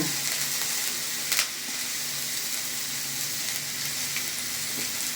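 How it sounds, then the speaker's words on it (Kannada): Onions frying in oil with curry leaves and salt, a steady close sizzle crackling throughout with a brief stir or clatter near the start. "ಇದು ಕೆಂಪಾಗೋವರೆಗೂ ಫ್ರೈ ಮಾಡ್ಕೊಳ್ಳೋಣ."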